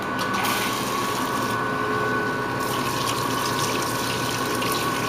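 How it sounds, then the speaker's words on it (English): Water runs steadily from a tap in a soap-making lab as hands are washed with foaming soap, a continuous close hiss of flow lasting throughout with no talk. "Can you turn that water on for me?"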